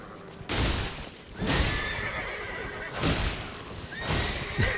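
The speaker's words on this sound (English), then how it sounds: "Another man just trotting on by on a horse." In the Elden Ring video game, a horse trots past with clip-clop hoofbeats, then neighs and whinnies several times in loud bursts close by.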